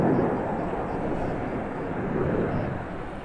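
Black Eagles aerobatic jets at an air show roar past in a broad, rumbling whoosh, loud and steady for a few seconds with a slight swell near the end, while an announcer talks over it.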